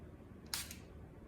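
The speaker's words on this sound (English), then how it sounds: "So I'm spraying the setting spray" A single short spritz of makeup setting spray from a small bottle, a brief soft hiss close by in an otherwise quiet room.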